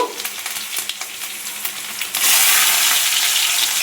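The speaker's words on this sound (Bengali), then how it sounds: "তেলটা গরম হয়ে গিয়েছে পাঁচফোড়নটা তেলে দিয়ে দিলাম এবারে পেঁয়াজ দিয়ে দেব" Panch phoron spices and onion hit hot oil, starting with crackling pops and turning into a loud, dense, continuous close sizzle.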